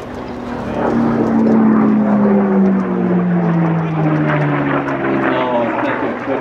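Unlimited-class racing aircraft at the Reno National Championship Air Races roar past, a loud piston-engine drone that swells and then slowly falls in pitch as it passes, heard from the crowd at a distance.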